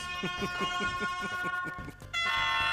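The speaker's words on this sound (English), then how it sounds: "Only now do I get my air horn app installed." A phone air horn app blares repeated short honks in a quick, even rhythm, then shifts into a sustained, louder horn blast near the end, all quite close.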